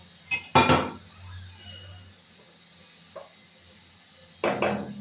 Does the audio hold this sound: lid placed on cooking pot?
yes